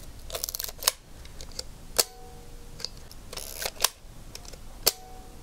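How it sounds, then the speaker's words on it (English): An Olympus 35 SP rangefinder film camera's shutter clicks several times, each a sharp, springy snap separated by pauses, with faint handling noises in between. "the shutter sound is not pleasant"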